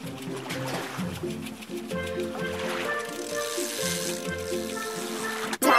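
Cartoon tap water runs steadily to rinse soap off a number in a children's counting game, a bright continuous splash and trickle under a layer of playful game music, ending with a short burst.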